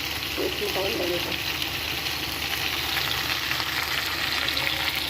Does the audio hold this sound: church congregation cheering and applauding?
no